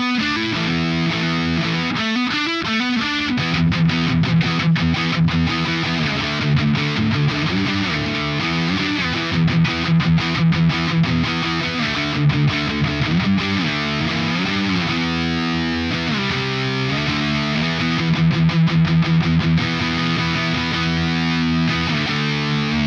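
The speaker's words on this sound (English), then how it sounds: "let's up that distortion a little bit to see how much gain this pedal has" Heavily distorted electric guitar through a Pigtone PP-24 English Man British-style distortion pedal plays sustained fuzzy chords and riffs, loud and continuous with no voice.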